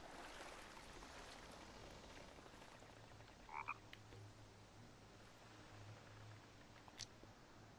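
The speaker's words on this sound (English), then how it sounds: "I don't know if he's actually a sound effect or if he's an actual thing, this toad or frog" A toad or frog croaks in the survival game The Forest, a short pair of faint, distant calls over a steady bed of rain-like ambient noise and a low hum.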